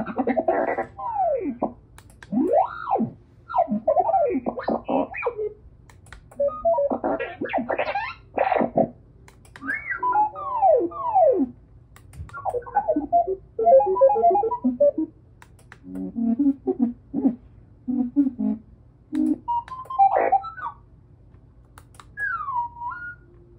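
Custom reversed R2-D2-style astromech droid beeps for R2-B2, a lively string of chirps, warbling whistles and sliding electronic tones in short bursts separated by brief pauses, clear against a faint low hum.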